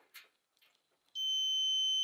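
A multimeter set to continuity beeps across the terminals of a dryer thermal fuse: after a few faint clicks and handling noises, a loud, steady high-pitched tone starts and holds without a break, close and alone.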